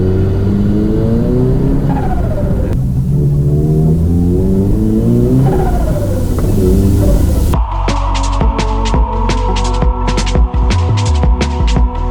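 A Nissan R34 GT-R with a slight oil leak revs twice up and down from idle, then releases into a rapid, fluttering chatter of turbo flutter over a steady low engine hum, all close and loud.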